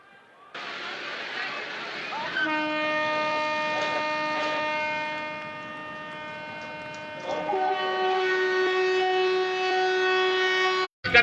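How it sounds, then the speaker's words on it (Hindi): Amrit Bharat Express trains are flagged off with a loud, sustained train horn that starts after a brief lead-in, shifts pitch midway and cuts off sharply near the end. "2 नवीन अमृत भारत एक्सप्रेस ट्रेनों को हरी झंडी दिखाकर उनका शुभारंभ करें"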